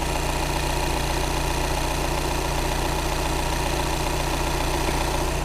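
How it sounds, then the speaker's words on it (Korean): An Audi A6 diesel engine idles steadily up close, a loud, even rumble with a constant rhythmic clatter and no change in pitch. "엔진 ASMR 한번 들어보도록 하겠습니다"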